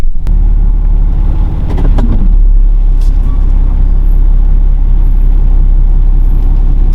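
A lifted 2012 Dodge Ram 3500 pickup on new wheels and tires making a tight multi-point turn, with a steady loud low engine rumble throughout and a brief hiss and scrape near the start.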